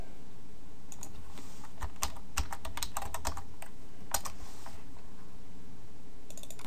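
A computer keyboard being typed on in short clusters of quick, crisp keystrokes, mostly in the middle with a final few taps at the end, close up and with no speech.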